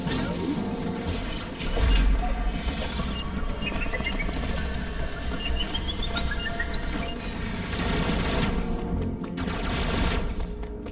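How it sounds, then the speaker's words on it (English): A charged missile fires with a burst of impact in Metroid Dread, set against steady game music and sound effects that carry on throughout. "I like to do a charge missile to kill him"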